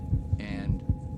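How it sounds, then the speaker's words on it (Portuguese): Low, muffled heartbeat thumps in a lub-dub rhythm, two beats close together and then two more, over a soft, faint hum. "estimulando a fazer o som do meu coração batendo"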